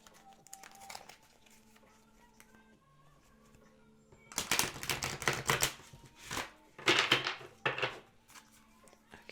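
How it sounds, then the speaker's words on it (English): A Wisdom of Oracle card deck is shuffled by hand, giving a flurry of crisp riffling and flapping bursts close by after a quieter stretch. "I'm going to do some shuffling for you."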